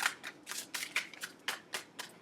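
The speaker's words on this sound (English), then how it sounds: "Actually, I'm gonna make this next shuffle my last shuffle." Tarot cards being shuffled in quick repeated riffles, about eight short crisp bursts in a steady rhythm, close and fairly quiet with no talking.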